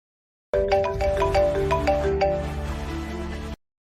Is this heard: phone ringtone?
yes